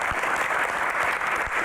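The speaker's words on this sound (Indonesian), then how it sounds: "Kita berikan tepuk tangan yang meriah untuk Kak Melanie Subono." Dense, steady applause from a crowd, continuous and loud throughout.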